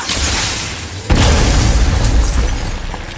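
A crystal shattering in God of War: a loud, close burst that erupts suddenly after a second of low rumble, then a sustained crashing roar with bright glassy scatter that slowly fades.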